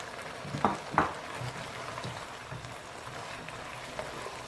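Chicken pieces drop into a hot pan of oil for chilli chicken, giving a couple of sharp spattering bursts followed by a steady, moderate sizzle and frying crackle, close by and without speech.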